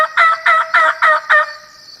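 A wild turkey gobbles close by, five rapid rattling bursts in a quick even rhythm, then a fading tail.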